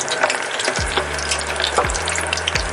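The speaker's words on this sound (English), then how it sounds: "I am going to fry it till golden brown in color" Fish deep frying in hot oil until golden brown, a steady close hiss and fine crackle with a few low bubbling pulses, alone without talk.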